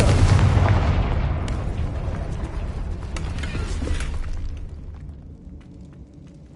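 Confringo fire spell blasts in Hogwarts Legacy, a loud booming explosion that rumbles and crackles as it decays over several seconds, followed by scattered smaller pops, no talk.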